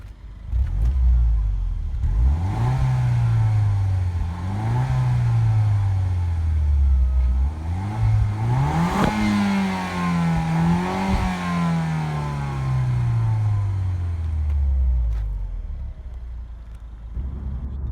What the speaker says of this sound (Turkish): size egzozu göstermek istiyorum dışarıdan sesini.